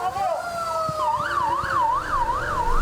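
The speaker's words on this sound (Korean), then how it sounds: "응급 상황을 가정한 소방차가 빠르게 내달립니다." A fire truck siren wails during a civil defense drill on a central Seoul boulevard, rising and falling in a steady repeating sweep, loud and close over traffic rumble.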